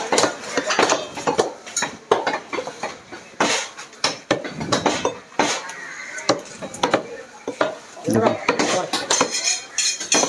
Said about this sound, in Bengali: এখানে একটা নলি কাটতেছে আমরা নলি কাটাটা দেখাই একটু আপনাদেরকে